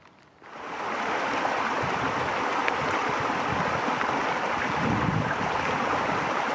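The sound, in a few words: creek water flowing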